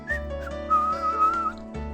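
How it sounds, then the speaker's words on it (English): In the Higurashi no Naku Koro ni visual novel, the character Mion whistles a short, wavering tune over steady background game music. "Mion looked away and began to whistle."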